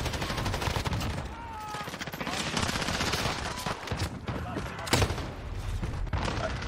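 Bruen MK9 rifle fire in the game Modern Warfare, loud rapid automatic bursts crackling almost continuously with dense overlapping shots and battle noise throughout.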